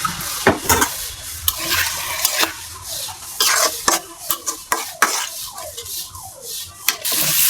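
Spicy Bengali egg bhuna sizzles in a pan with a splash of water as a spoon stirs and scrapes it in quick, repeated strokes, close and fairly loud, with the sizzle steady underneath and no talk.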